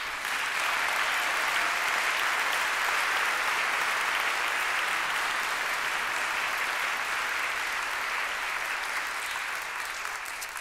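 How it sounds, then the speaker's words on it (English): A church congregation at a bicentennial service claps for itself, a loud sustained roomful of applause running unbroken for about ten seconds and easing only slightly at the close. "this congregation needs to give itself a round of applause"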